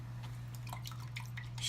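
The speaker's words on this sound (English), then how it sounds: "Get your brush wet, shake out most of the water, like so." Water drips from a wet shaving brush in a quick, irregular scatter of small splashes over a steady low electrical hum, close by and with no voices.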